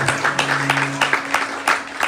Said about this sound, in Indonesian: Kita berikan tepuk tangan yang meriah buat Tuhan Yesus.